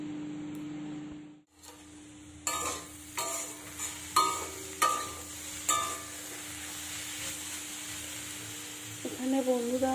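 Radish greens fry in a pan with a soft background sizzle, punctuated by several distinct stirring scrapes and clinks at regular intervals, followed by a brief higher clatter at the end.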